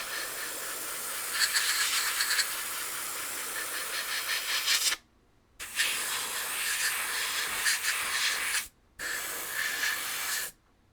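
A Gaahleri GHAD-39 airbrush blasts compressed air in a close, steady hiss, held in long bursts broken by two short silent pauses.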